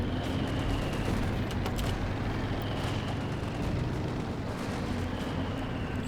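Bazooka fire and tank combat from a Company of Heroes 2 match, a dense, continuous roar of gunfire and explosions rumbling steadily throughout with no clear pauses.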